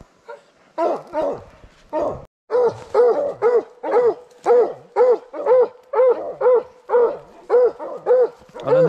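Hunting dogs on a bear hunt bark in a loud, close, rapid series of yips and bow-wows, with a short pause near the start before the rhythmic barking resumes.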